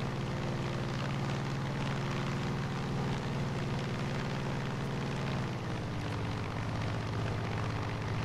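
Propeller plane engine in the video game Far Cry 5, a steady droning hum with a low tonal core that holds constant and fairly loud, no voices over it.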